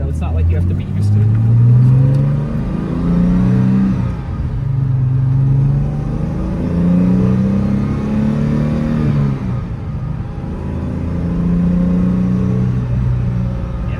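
A 1969 Jaguar XKE Series II engine hums steadily while driving, its mid-pitched drone rising and falling with gentle revs over about fourteen seconds, close and loud throughout.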